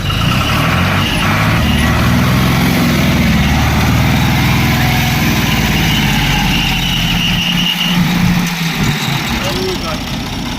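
A 1975 Ford 4000 diesel tractor idles close by, a steady low chugging throb with a rough mechanical rattle, loud and continuous, shifting slightly near the end.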